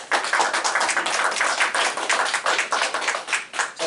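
Audience at a Korean history and ethnic-religion seminar claps in sustained, even applause, a dense steady patter of many hands that carries loudly through the whole stretch with no voices.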